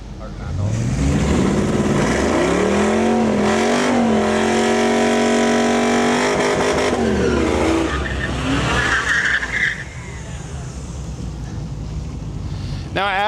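A Pontiac G8 GT drag car launches hard at a drag strip, its engine roaring up through rising revs with a brief tire squeal, loud and close, then fading as it pulls away.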